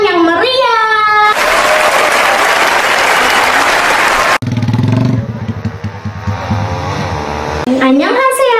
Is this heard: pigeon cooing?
no